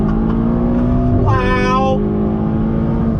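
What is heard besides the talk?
Ferrari GTC4 Lusso T accelerating on throttle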